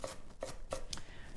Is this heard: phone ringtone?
no